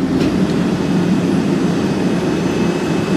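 A warm 1963 Chrysler Turbine Car with its turbine engine running, a loud steady whooshing roar with a faint high whine above it, close and constant throughout.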